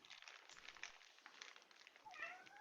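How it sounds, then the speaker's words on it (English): A cat meows faintly in a quiet indoor setting, with a few soft calls ending in a clearer rising-and-falling meow. "Kitty."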